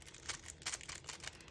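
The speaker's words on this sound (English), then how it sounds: "This is kind of some really soft packaging, excuse the noise" Quiet, close crinkling of soft plastic packaging, with light rustles and crackles coming in small bursts over a second or two.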